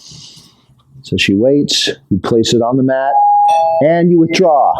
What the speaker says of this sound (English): That was a doorbell. See the doorbell?